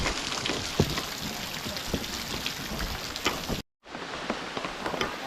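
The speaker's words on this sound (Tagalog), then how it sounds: "Lakas ng ulan mga karotman." Heavy rain pours down steadily on a house roof under repair, a dense, loud hiss of drops broken by one brief silent cut before the downpour resumes.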